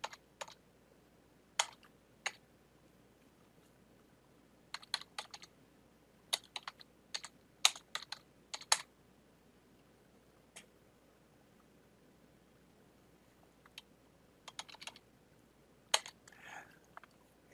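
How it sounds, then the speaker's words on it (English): Typing on a computer keyboard while entering network switch configuration commands, quiet close key clicks arriving in short irregular bursts separated by pauses, with a faint low hum underneath. "Let me type that properly here."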